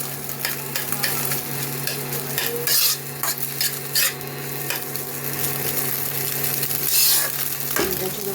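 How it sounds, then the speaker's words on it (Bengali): An egg fries in oil in a pan, a continuous close sizzle broken by frequent clinks and scrapes of a utensil against the pan. "আমি এখন ডিম ভাজাটা তুলে নেব"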